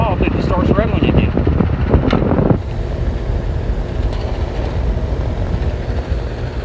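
A 2012 Amana central air conditioner runs in cool mode on a hot day, its loose top cover rattling over a steady, loud fan drone. A person talks over the first part, then the machine runs on alone.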